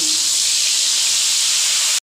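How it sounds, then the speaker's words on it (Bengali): Eggplant slices coated in spice paste fry in hot oil, making a loud, even hiss that runs close and unbroken for about two seconds before it cuts off abruptly. "তেল গরম হয়ে গেছে এবারে প্রত্যেকটা বেগুন দিয়ে দেবো"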